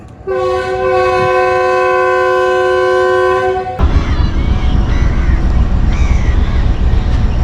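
Mianwali Express at Kaidabad railway station, a loud sustained horn blast for several seconds, then heavy rumbling and clanking as the train pulls away.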